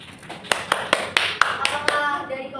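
A small classroom group claps for a student group presentation, with about seven sharp, distinct claps in a slightly uneven rhythm that fade out after a couple of seconds, close and fairly loud.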